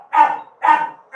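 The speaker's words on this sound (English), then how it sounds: "Australian cattle dog. He's a puppy." An Australian cattle dog puppy gives two sharp, close barks about half a second apart, followed by the start of a third, with no voices.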